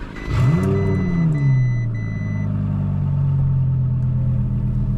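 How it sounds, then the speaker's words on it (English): A 1000HP twin turbo Audi R8 engine cranks and fires up, sweeping into a loud rising rev before settling into a deep, steady idle rumble up close, with no talking. "Go ahead and fire it up."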